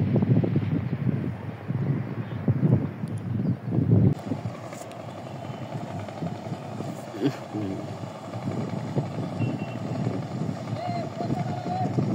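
A large trawler passes on a river with a low, steady engine rumble and drone carrying on under wind noise, while someone talks nearby over it.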